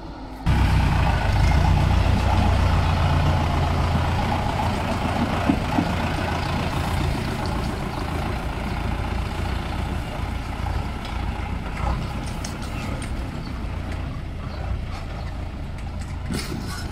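A tractor engine runs steadily in a Chinese village in Jiangsu Province, a loud, close, continuous low rumble and rattle heard from aboard, with no talking over it.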